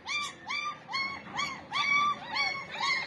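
Two puppies at home play together and whimper, giving a run of high, wavering whines and yips in quick repeated bursts, close and fairly loud, with no talk.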